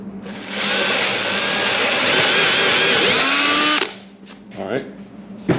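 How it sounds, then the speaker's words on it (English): A power drill pre-drills a hole in wood for a lockable drill shelf, one loud close whir of about three seconds with rising pitch before cutting off, followed by handling noises. "So what I'm going to do is pre-drill it"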